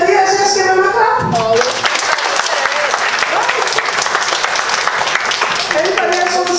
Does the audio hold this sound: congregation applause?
yes